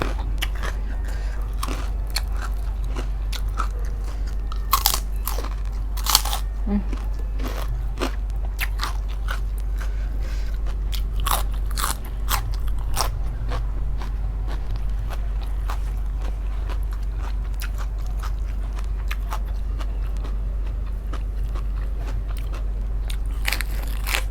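Someone eats crunchy, spicy Thai papaya salad (som tam) up close, with loud, crisp bites and crunches at irregular intervals over steady low background hum. No one talks.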